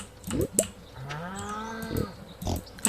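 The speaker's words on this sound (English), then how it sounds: "These are my pigs." Pigs in the farming video game Stardew Valley give a drawn-out grunting oink in the middle, bracketed by a few sharp clicks.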